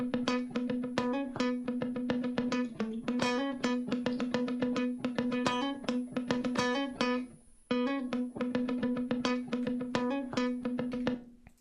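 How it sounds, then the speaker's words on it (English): Funky guitar from a Big Fish Audio sample, rapid percussive strummed and muted chords in a tight groove, bright and close, pausing briefly before picking up again, with no talk. "Then we have some funky guitar that I played on the last chorus."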